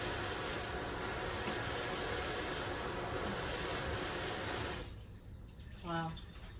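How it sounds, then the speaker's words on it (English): A kitchen sink drains with a steady loud rush as the garbage disposal runs, then cuts off to a quieter gurgle with a short low hum near the end. "Go ahead and turn the garbage disposal on. Is it draining?"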